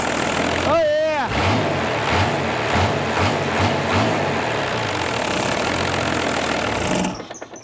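A Chrysler diesel engine, Mitsubishi 6DS70, runs during a test fire, its steady loud idle throbbing with rhythmic pulses before it cuts off abruptly near the end.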